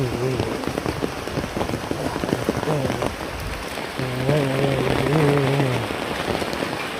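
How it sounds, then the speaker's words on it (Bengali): Heavy rain pours steadily on surfaces with dense pattering. Voices talk over it, and a tonal voice or horn sounds briefly near the start and again midway. "এখনো বৃষ্টি হইতেছে। এই যে গাঙ্গের পানি ভরে গেছে, প্রচুর পানি হইতেছে, খালি বৃষ্টি আর বৃষ্টি"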